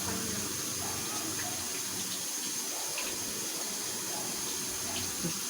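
Water runs steadily from a tap, a continuous even gush of splashing flow with no voices.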